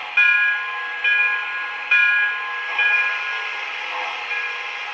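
A model Pennsylvania Railroad steam locomotive bell rings in evenly spaced strikes, about one per second, each fading before the next, with no one speaking.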